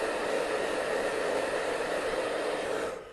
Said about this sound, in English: because I blasted it with a hairdryer